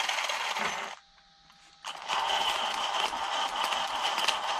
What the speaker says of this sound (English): you can hear some clicking